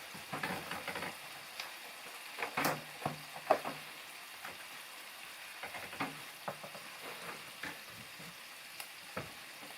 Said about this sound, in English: Let them saute a little bit, get heated up.